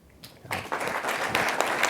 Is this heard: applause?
yes